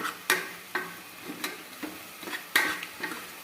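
A spoon stirs lentil dal with fenugreek leaves and turmeric in a pot, making a slow, regular series of scraping knocks roughly every half second, fairly quiet and with no voices.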